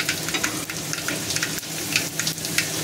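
Green chillies frying on a low flame for thecha, a close, even sizzle of oil with frequent small crackles and pops and a few soft stirring scrapes, no talk.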